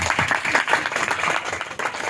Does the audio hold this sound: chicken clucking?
no